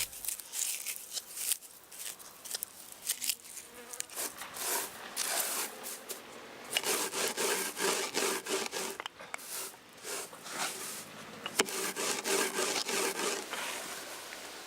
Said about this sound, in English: rub the flower heads between your hands and then crush them using a rolling pin.